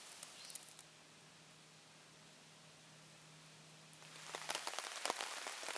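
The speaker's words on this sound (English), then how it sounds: "Right now we're in a downpour." Heavy rain pours onto a campsite canopy at a Michigan campground, a steady hiss of dense drops that swells louder and busier toward the end, with sharper patters near the close.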